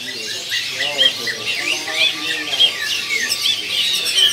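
Zebra doves of the Demak tangguh type, perkutut kept in a bird kiosk, give repeated high chirps and squeaky calls throughout, mixed with other birds and background voices.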